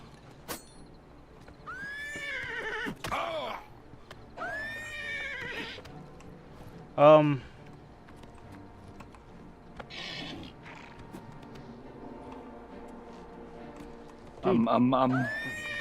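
A horse whinnies loudly several times, with hooves shuffling and creaking gear in between, and a voice briefly speaking.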